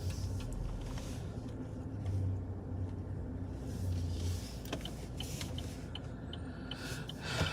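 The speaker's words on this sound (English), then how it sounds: "And we got another car coming." A car passes on a road in Sarasota, a steady low rumble of engine and tyre noise that swells gently and fades, heard at a moderate distance against faint outdoor background with no talking.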